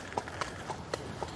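A horse's hooves clip-clop in a slow, even walk at a royal castle early in the morning, five distinct moderately near strikes spaced about a quarter second apart over a low background.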